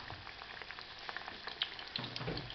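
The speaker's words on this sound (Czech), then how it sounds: "Smažíme." Meat roulades fry in a hot pan with a steady, close crackling sizzle and scattered pops throughout, with a brief low clatter partway through and no talking.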